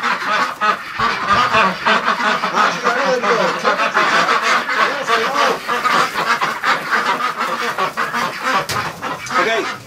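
Many ducks quack and honk loudly and continuously inside a shelter on a bitterly cold winter day, a crowded overlapping chorus close by.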